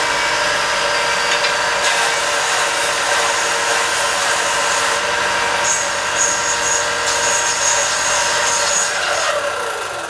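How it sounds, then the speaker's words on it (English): A belt sander runs loud and steady nearby while small wooden pieces for an acoustic guitar build are pressed against it to round them off, the grinding hiss rising and falling slightly as the wood meets the belt. "I'm going to clean these up on my belt sander."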